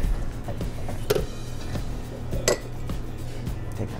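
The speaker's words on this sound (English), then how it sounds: "I'm going to take all that ice that I prepped," Ice cubes clink and rattle into a glass while a Bloody Mary cocktail is prepared, giving a few distinct knocks over a busy kitchen background.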